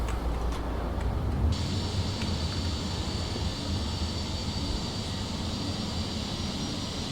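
Landing gear lowering on a TUI PMDG 737NGX airliner in a flight simulator on approach into Gatwick: a steady, loud engine and airflow rumble, joined partway through by a constant higher hiss that carries on to the end.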